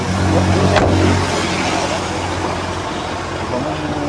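A car pulls away on a road, its engine rumble loud at first and then easing as it leaves, with traffic hum behind and voices nearby.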